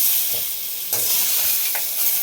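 Cauliflower curry being stir-fried in a pan sizzles softly and steadily, with a couple of scraping stirs breaking through the hiss, close and brief with no voices.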